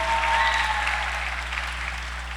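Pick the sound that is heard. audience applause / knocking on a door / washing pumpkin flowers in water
audience applause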